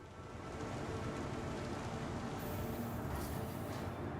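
Steady rain in the Star Citizen game world, a dense, even hiss of falling water that swells in after a brief quieter start and holds at a constant level throughout, with no voices.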